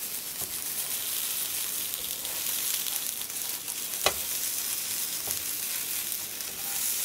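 Chopped tomatoes sizzling in a frying pan for a red pork-rib sauce, a steady crackling hiss with one sharp clink partway through and no talking.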